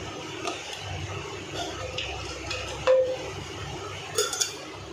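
A spoon stirs gongura and prawn curry in a pot, making soft scraping and light metallic clinks, a few of them sharper, all fairly quiet against a faint background hum.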